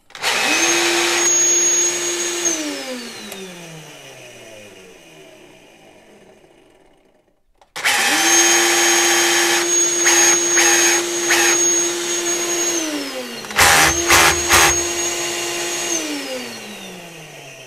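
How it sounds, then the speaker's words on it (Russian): A Makita DX01 cordless dust extraction vacuum motor whines up to a high steady pitch, winds down, then starts again and runs with a rough, uneven, faulty-sounding drone, briefly cut off once. "звук какой-то не очень хороший у двигателя пылесоса"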